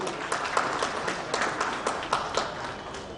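An audience at a government smart city event in Bihar applauds, with steady, moderately loud clapping and a few sharper claps standing out.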